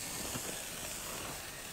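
Spinach steaming with water in a covered wok, giving a steady, faint broadband hiss that holds evenly throughout with no talk.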